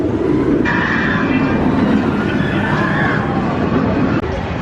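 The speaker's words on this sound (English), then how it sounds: "that was the most rickety, rattly ride I've ever had on the Smiler" Rickety roller coaster train on the Smiler rattling and clattering along its track, a loud, steady rumble with metallic squeals that drops off abruptly near the end, with faint crowd chatter underneath.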